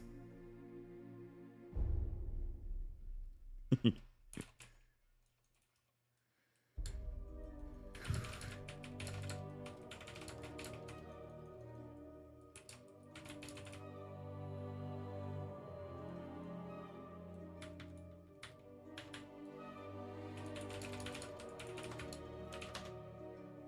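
Quick bursts of clicky keystrokes on a computer keyboard, faint and intermittent over quiet background music, with a short silent gap early on.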